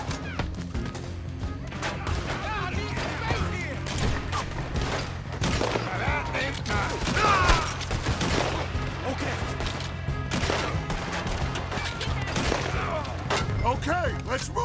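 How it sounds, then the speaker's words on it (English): Dense, continuous gunfire from a firefight in Red Dead Redemption 2, with rapid overlapping shots and impacts throughout under shouted voices. "Just keep shooting till nothing moves."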